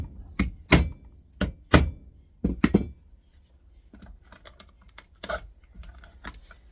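Sharp, hard knocks as a plastic power adapter casing is struck along its seam to split it, several loud taps in an uneven rhythm, then a run of lighter rattling clicks.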